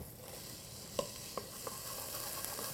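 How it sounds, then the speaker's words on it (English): Red onion sautéing in a pan for turkey and bean chili, with a soft, quiet sizzle and a few light clicks of a spoon breaking up the pieces, close and unaccompanied by talk. "Saute those in there. Break up that red onion there."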